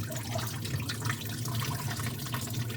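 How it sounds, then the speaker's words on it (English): Water drains steadily out of a kitchen sink pipe that had been blocked, a continuous close rushing trickle that holds an even level throughout with no talking. "Drain it out nice and slow."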